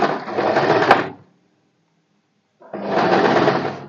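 A sewing machine stitches a folded fabric strip onto a kurti in two loud, close bursts of rapid whirring, separated by a clear pause of silence.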